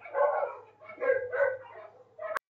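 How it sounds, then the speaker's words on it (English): Recorded barking dog test sound played through a Logi Dock docking station microphone, several muffled barks and yelps in a loose sequence, moderately loud and slightly boxy. "This is the barking dog sound test on the Logi Dock."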